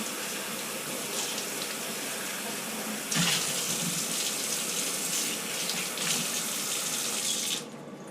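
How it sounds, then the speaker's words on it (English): Water runs from a tap over a coffee filter basket from a Bunn brewing station, a steady rushing stream that grows louder and splashier midway as the basket is rinsed, then cuts off near the end. "rinse out the filter thing."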